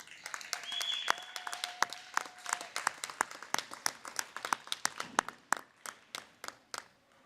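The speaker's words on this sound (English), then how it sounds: "Round of applause for our parents" A modest audience at a junior high school awards ceremony claps for the parents, the sparse, distinct handclaps building briefly and then thinning into scattered individual claps; a faint tone sounds near the start.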